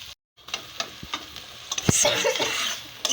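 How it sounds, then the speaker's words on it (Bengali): Spices, ground pastes and a potato mixture are stirred in a pan over a steady sizzle, with a few scraping taps of the utensil, close and moderately loud. "আমি এখন এগুলো সুন্দর করে নাড়াচাড়া করে নামাই নেব।"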